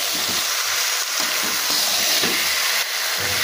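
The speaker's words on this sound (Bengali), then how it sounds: "চিকেনটা এবার ভালো করে আমি কষিয়ে নেব মশলার সঙ্গে।" Chicken pieces fry with spices in a pan, making a loud, continuous, close-up sizzle. Soft scraping strokes come back again and again as the meat is stirred.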